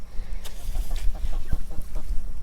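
Young ducklings chirp and peep in short, irregular calls close by, with light clucking-like notes and soft rustling between them.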